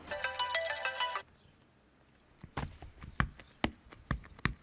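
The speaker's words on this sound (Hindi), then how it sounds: "फोन उठाओ ना।" A phone ringtone plays a bright electronic melody for about a second, then stops, followed by quiet knocking and shuffling sounds.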